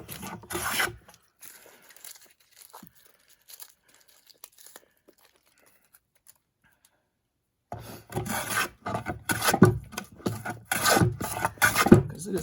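Hand plane shaving the surface of an ash wood hewing block, with bursts of rasping, scraping strokes at the start and then a rapid run of repeated strokes after a long quiet gap.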